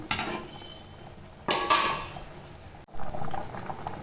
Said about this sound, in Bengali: দিয়ে একবার হালকা হাতে ভাতটা নেড়ে দিলাম